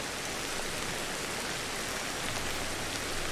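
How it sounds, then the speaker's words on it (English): Steady rain in the prehistoric survival game Ancestors: The Humankind Odyssey, a soft, even hiss of falling water that holds constant and fairly quiet with no voices. "Till this rain stops?"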